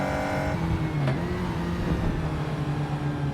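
Engine of a car in a racing simulator, heard through an H-pattern shifter setup, revving on a downshift: a sustained, moderately loud engine drone with a rev blip and shifting pitch, and no talk.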